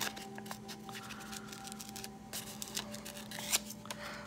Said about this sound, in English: you can then cut that out.